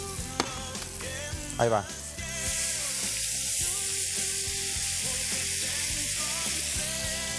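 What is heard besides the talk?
garlic sizzling while browning in butter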